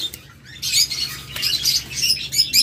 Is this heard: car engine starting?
no